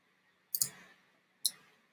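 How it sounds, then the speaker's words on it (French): Two crisp computer mouse clicks while working in Photoshop, the first a quick double tap and the second single a moment later, close and quiet against near silence. "Je clique"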